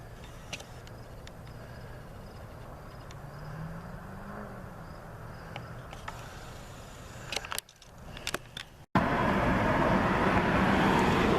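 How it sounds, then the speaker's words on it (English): A car pulls out of a park parking spot at night, a low, faint engine rumble amid chirping crickets, followed near the end by loud close rustling noise. "That car pulling out there."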